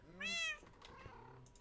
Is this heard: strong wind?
no